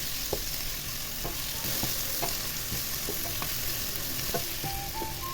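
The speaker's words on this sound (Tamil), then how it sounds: "சின்ன வெங்காயமும் கொஞ்சம் பதங்கினத்துக்கு பிறகு கடைசியாக தக்காளியை சேர்த்துக்கொள்கிறோம்" Shallots and tomato frying in a pan for country chicken curry, with a steady oil sizzle and repeated sharp stirring scrapes of a spoon.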